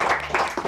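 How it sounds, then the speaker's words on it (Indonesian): Brief burst of clapping from a crowd, a few seconds of scattered applause rising and falling. "tepuk tangan"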